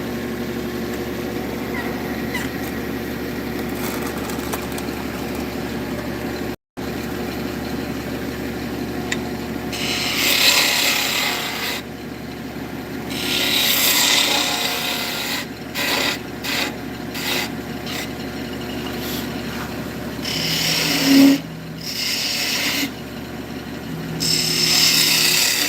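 A wood lathe hums steadily while a small bowl gouge cuts in intermittent scraping, rasping bursts, close and fairly loud, with a brief dropout early on.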